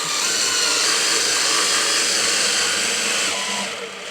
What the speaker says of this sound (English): I run the chance of damaging it with the drill driver.